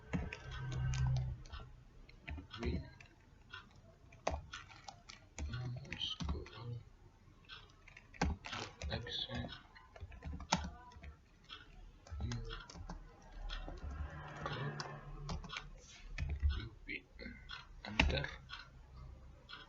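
Typing on a computer keyboard, a close, irregular patter of key clicks with short pauses between bursts, with quiet talking now and then.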